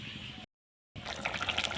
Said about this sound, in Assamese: মই লাও বিলাহী বইল কৰা পানীখিনিকে ইয়াত ঢালি দিছোঁ